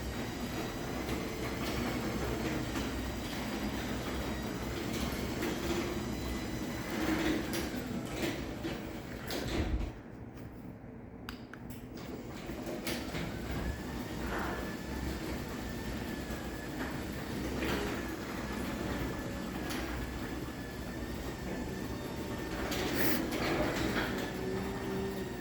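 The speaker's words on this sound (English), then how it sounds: "we'll go ahead and run the other door now, and we'll use its remote." Garage door opener, a newer and louder unit, runs from its remote as the door travels: a continuous mechanical grinding drone with rattles and clanks lasting about 25 seconds, briefly dipping near the middle.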